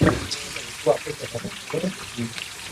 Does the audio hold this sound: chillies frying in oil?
yes